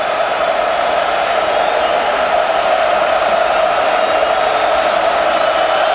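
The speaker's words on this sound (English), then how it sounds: "here comes the crowd again" A college football stadium crowd roars in one steady, loud wash of noise during a 2005 Michigan at Northern Illinois game, with no breaks across the whole stretch.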